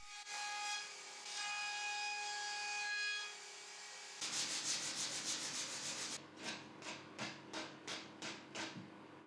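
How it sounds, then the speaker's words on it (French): A router fitted with a cove bit shapes the edge of a wooden table extension board, first a steady high whine, then a rougher cutting roar broken into repeated short passes. "J'ai ensuite installé une fraise à gorge classique et, en plusieurs passages, obtenu une forme proche de ce que je voulais."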